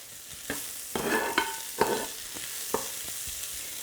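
Hotteok filling is stir-fried in a pan with salt and pepper, a soft sizzle under a few scraping, clattering stirs of a utensil at close range, no voices.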